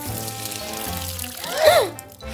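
Water poured onto potted plants indoors, a short splashing pour that swells briefly near the end, heard over a soft background tone with no speech.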